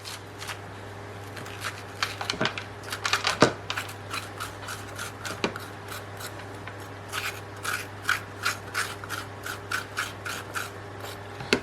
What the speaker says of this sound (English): I'm just going to scoop it out with a spoon